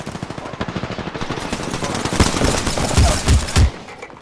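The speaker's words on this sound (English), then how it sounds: "Opening fire." Rapid gunfire in the video game Apex Legends rattles off as a fast, loud burst, followed by a few heavier, spaced shots near the end.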